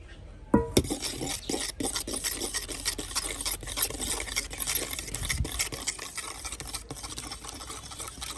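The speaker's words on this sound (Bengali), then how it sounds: "এখানে দুধ আর রুটির যে মিশ্রণটা ছিল সেখানে আমি ডিমটা দিয়ে ভালোভাবে মিশিয়ে নেব" Spoon stirring beaten egg into a milk and bread mixture for caramel egg pudding, a steady scraping and rubbing against the bowl with occasional light knocks, close and continuous.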